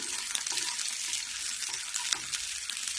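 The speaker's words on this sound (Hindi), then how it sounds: "तेल गरम हो गई है, तो सबसे पहले मैं हरी मिर्ची डालूंगी" Green chillies frying in hot oil give a steady, bright sizzle with crackling pops, close by and continuous, with faint stirring and no talk.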